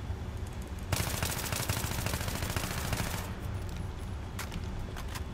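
Full-auto burst from an AEK-971 assault rifle in the video game Battlefield 3, a loud continuous stream of rapid shots lasting over two seconds, followed by a couple of faint pops.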